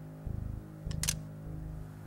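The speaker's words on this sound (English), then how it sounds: "That's the sound of a hammer being pulled back on a .38 snub-nosed revolver." A quick metallic double click of a .38 snub-nosed revolver's hammer being cocked sounds over a low, pulsing musical drone.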